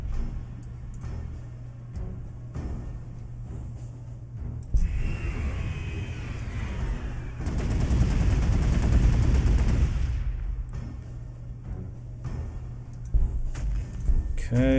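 Sustained bursts of gunfire volleys in the Warhammer 40k: Gladius strategy game, a dense rattling barrage swelling loud in the middle and easing off, with scattered sharper clicks before and after.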